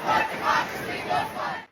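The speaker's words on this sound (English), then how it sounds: "We are just getting started here in Houston, and this crowd is active and," A large protest crowd cheering and shouting at a No Kings Day rally in Houston, surging roars rising and falling in waves, loud and close, before cutting off abruptly.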